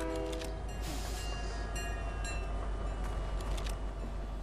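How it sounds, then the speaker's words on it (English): Train rumbling past in the Fortnite video game, a loud continuous low roar with metallic rail noise and short horn-like tonal bursts throughout. "There's a train."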